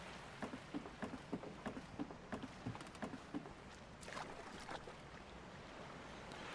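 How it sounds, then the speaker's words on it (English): Ocean waves wash onto a beach in the video game Persona 3 Reload, a faint steady surf hiss with a string of soft rhythmic taps over it, quiet and distant. "Watch all the waves roll under the shore."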